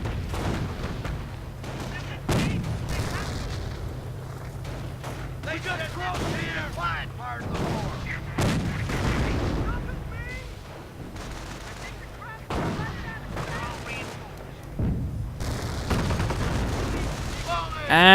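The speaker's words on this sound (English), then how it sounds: "anti-tank gun fire." Anti-tank gun and artillery fire in a real-time strategy war game, with repeated booming shots and crackling gunfire over a continuous battle din, under steady commentary.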